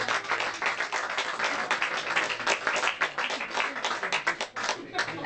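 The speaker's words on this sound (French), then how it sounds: "on peut les applaudir" A small group at an informal after-work drinks gathering claps for colleagues, a lively patter of individual hand claps with audible separate hits, continuous and fairly close for the whole stretch.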